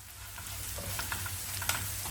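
Chopped banana stem sautés in a pan with a soft continuous sizzle and a few light stirring clinks, fairly quiet and close, with no voices.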